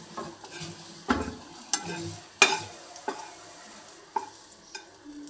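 Urad dal sizzles in sesame oil while tempering for tomato chutney, a soft steady frying hiss broken by several sharp scrapes and clinks of a spoon stirring in the pan.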